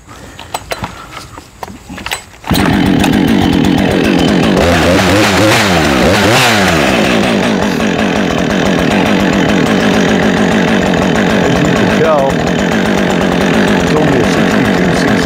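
A Husqvarna 562xp chainsaw fires up after a few seconds of handling noise, then runs loud and close, its engine revving and settling into a fast, steady drone near hardwood ash.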